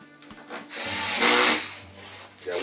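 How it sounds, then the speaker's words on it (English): Screws being driven back into the rear panel of a 65-inch RCA LED TV, LED65G55R120Q, with a powered driver: a short whirring burst swelling over about a second, then quieter handling and scraping close by. "make sure and just put the screws back in these three here"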